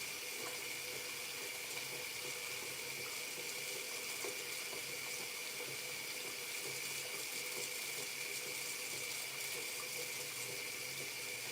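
Steady running water from a salon sink faucet wetting hair, a continuous hiss that holds evenly for the whole stretch with no talk over it.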